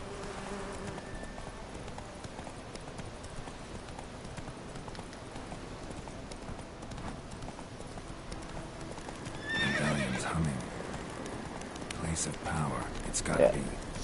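Horse hooves clip-clopping at a gallop in The Witcher 3, a steady rhythmic drumming with a whinny and neighs breaking out near the end, under someone talking.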